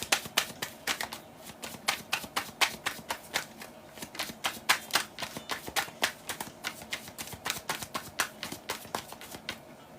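Tarot cards are shuffled in a quick, steady run of crisp riffling clicks that carries on for several seconds, close and fairly quiet, with no talking.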